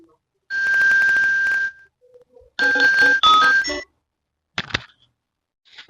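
Ringtone-style ringing of an outgoing phone call to someone abroad: a sustained tonal ring burst, then a second choppier burst and a brief faint chirp, with silence between, no voices.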